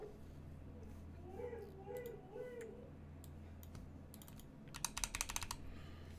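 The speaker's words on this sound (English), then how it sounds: "quick typing test" Quick typing test on a GMMK Pro mechanical keyboard, a run of light clicks and clacks building to a dense, louder burst of keystrokes near the end, with a steady low background hum and faint murmuring underneath.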